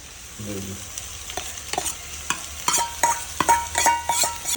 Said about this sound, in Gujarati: બરાબર હલાઈ દેવું